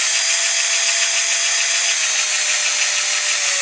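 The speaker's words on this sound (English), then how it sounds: "I like to go quite deep with the smaller drill and then not so deep with the bigger one" An electric drill bores headlight holes in a diecast Dinky Toys Morris 1100 model, giving a steady, loud high-pitched whine that holds constant throughout, its tone sliding slightly lower near the end, with no talking.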